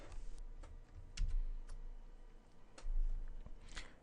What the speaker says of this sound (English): You can go ahead and type some code in here,